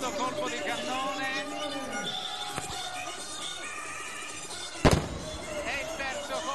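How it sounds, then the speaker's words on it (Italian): A single loud, sharp cannon boom bursts out near the end, over excited shouting and crowd noise, as a cannon shot opens the 2023 Viareggio Carnival. "E il terzo colpo di cannone!"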